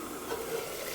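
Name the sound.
meat frying and sizzling in a pan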